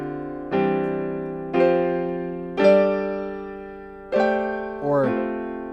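Piano sounding a gospel-style progression with suspended chords: five sustained chord strikes, each ringing and decaying, the last resolving with a shifting inner voice, played alone with no talking.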